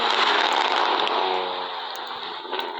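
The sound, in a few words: BMW car engine driving past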